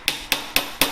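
Four light, evenly spaced metallic taps of a small hammer on a diamond cluster pendant at a jeweller's bench, crisp and close with short ringing decays.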